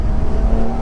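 A 992-generation Porsche 911 Carrera S Cabrio takes a fast corner with the driver off the throttle, its engine a brief, steady, close tonal hum.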